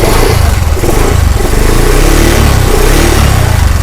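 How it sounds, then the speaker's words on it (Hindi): A Honda Livo motorcycle engine runs loud and close right after being started, a steady rough idle with a rattling, throbbing texture and no voices. "अब बाइक को हम लोग स्टार्ट करेंगे"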